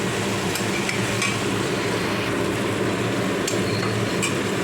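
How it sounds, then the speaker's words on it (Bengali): Steady, dense sizzling of potato, eggplant and onion frying in mustard oil, constant and close, with a few faint scraping clicks from stirring. "আমি আলাদা করে ভাজিয়ে এই আলু বেগুনটার সঙ্গে একটু ভালো করে ভেজে নেব"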